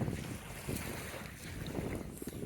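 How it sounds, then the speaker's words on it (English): Ocean waves break at a beach in a continuous, rushing wash of surf, heavily mixed with loud wind buffeting the microphone. "The big waves are coming."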